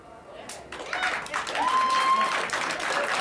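Audience at a hypnosis comedy show breaking into applause, clapping building from a quiet start to a full round, with voices and a whistle over it.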